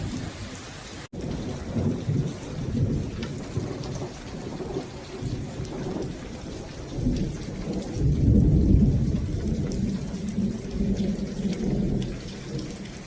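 Steady June rain patters throughout in Tampa Bay while low thunder rumbles and swells, with one sharp crack near the start and a heavier roll later on.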